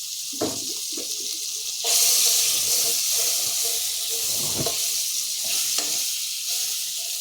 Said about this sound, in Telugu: ఒక ప్యాన్ పెట్టుకొని అందులో కొద్దిగా బటర్ వేసుకుందాం.